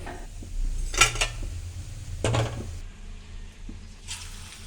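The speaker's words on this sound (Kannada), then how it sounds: "ಇವಾಗ ಪಕೋಡ ತೆಗಿತಾ ಇದ್ದೀನಿ ಅದನ್ನು ತೆಗೆದು ಒಂದು ಪ್ಲೇಟಲ್ಲಿ ಹಾಕೊತಾ ಇದ್ದೀನಿ" Fried onion pakoda lifted from hot oil and dropped onto a plate, with a few sharp metal clinks of a slotted spoon against the pan and plate over a quiet background.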